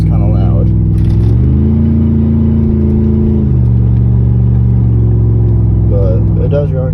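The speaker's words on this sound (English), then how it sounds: "my exhaust is kind of loud." Loud exhaust of a 2004 Chevy Z71 truck with a stock engine and 2800 stall converter, a deep close rumble that briefly revs up and settles, while someone talks over it.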